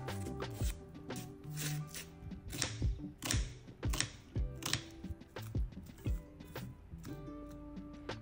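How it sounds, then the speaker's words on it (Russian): A knife finely chops half a red onion on a cutting board in a home kitchen, making a close, fairly quiet run of crisp, irregular taps with brief pauses. No one speaks. "Половинку красной луковицы мелко нарезаю."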